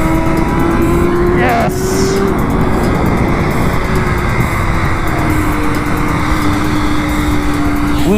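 A 2022 BMW S 1000 RR sport bike is ridden hard on a race track, its engine holding a loud, steady high-revving drone with a brief pitch shift near the start, heard up close throughout.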